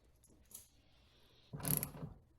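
Bolts on a Grand Caravan front door actuator latch are tightened down, heard as a faint early click followed by a louder, close burst of quick ratchet clicking, with no talking.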